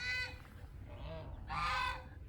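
Geese honking loudly in a bird yard where ducks and chickens are also kept, several harsh nasal calls in bursts with short gaps, close to the microphone and not under any talk.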